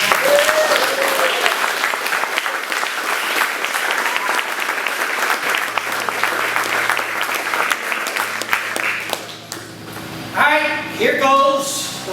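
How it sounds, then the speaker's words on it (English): A live audience gives a long, steady round of applause for John Fortino at the start of a one-man play premiere, dense clapping filling the room before it thins and a few voices break through near the end. "How about a nice round of applause for John?"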